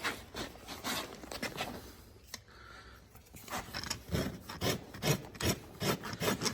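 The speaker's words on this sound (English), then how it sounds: "I'm going to take that down a little bit more with my rasp" A farrier's rasp works down a cracked horse hoof in steady rhythmic rubbing strokes, close and fairly quiet, with a brief pause partway through and no talk.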